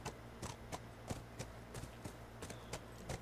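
A horse's hooves clip-clop in a quick, uneven rhythm in The Last of Us video game, faint against a steady low background hum.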